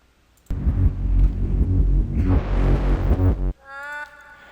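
A reversed modulation drop played backwards in FL Studio for Battlefield 3 style music swells as a loud dense low rumble, brightens into a rising hiss, then cuts off abruptly and leaves a quieter tonal buzz.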